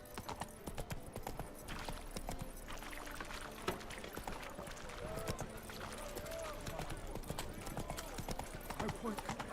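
Roach the horse gallops in Witcher 3, quick hoofbeats clopping steadily under game sounds while someone talks and game voices chatter over the top.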